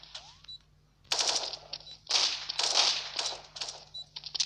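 Rapid bursts of automatic gunfire in the video game Special Forces 2, loud and close, with short gaps between volleys and no speech over them.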